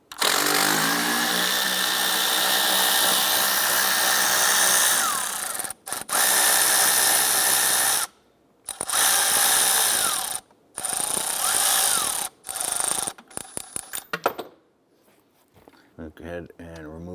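Power tool loosening a single 13mm bolt on an intake bracket holding AC lines on a 2011-2018 Ram, loud sustained whirring bursts broken by several short gaps, then a rapid stutter of brief pulses before quiet.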